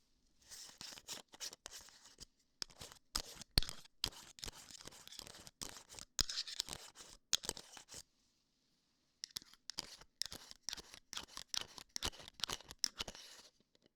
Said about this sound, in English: The next test we have here is the scissors test.